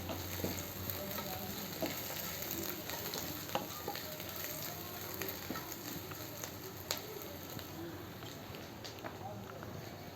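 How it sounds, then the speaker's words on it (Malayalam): Curry leaves frying and being stirred in a pan for a jackfruit seed and snake gourd stir-fry, a quiet continuous sizzle with scattered spatula scrapes and clicks, faint and distant. "കരിവേപ്പില ഇട്ടിട്ടൊന്ന് ഇളക്കി കൊടുക്കാം."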